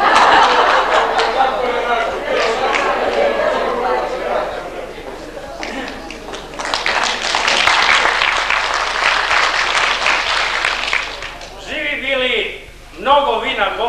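An audience at a gathering of disabled pensioners in Zaječar claps in a long, dense wave of applause, loud and close, swelling in the middle and fading near the end, with chatter and a voice coming through as it thins out.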